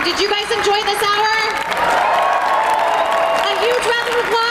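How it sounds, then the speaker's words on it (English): Convention audience at a Star Trek panel at C2E2 2020 applauding and cheering, a dense, loud wash of clapping with whoops that runs throughout, while a voice talks over it. "A huge round of applause for Walter Koenig!"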